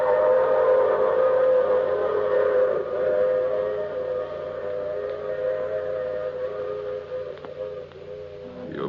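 A long, steady train whistle sounds as a sound effect in an old radio drama, a loud sustained chord-like wail fading slightly over several seconds, alone without voices.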